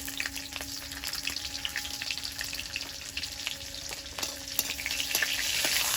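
Dried red chillies and black cumin hit hot oil in a wok, a steady close sizzle with scattered crackles and pops that grows slightly louder toward the end, no voices.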